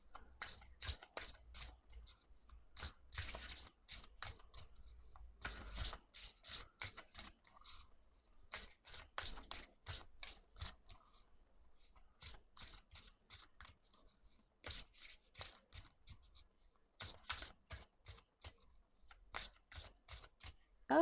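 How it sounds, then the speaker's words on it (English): A deck of oracle cards is shuffled again and again in quick riffling bursts with a faint squeak, close and quiet, short pauses between each shuffle. "They make a little bit of a squeak when shuffling them."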